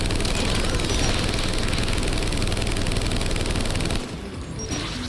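Dense, continuous rapid gunfire from a turret in the video game Mass Effect 3, loud and close, roaring unbroken for about four seconds before dropping off abruptly into quieter background noise.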